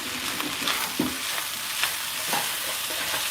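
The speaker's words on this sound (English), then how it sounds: "You hear that sizzle?" Steady sizzling of food frying on a hot hibachi-style griddle at home, with occasional scrapes and taps of a utensil, close by.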